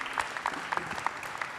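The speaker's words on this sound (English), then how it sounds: "A better round of applause for Randall Morgan." Audience applause for Randall Morgan at a medical association gathering, a dense steady patter of many clapping hands held at an even level through the whole stretch with no voices standing out.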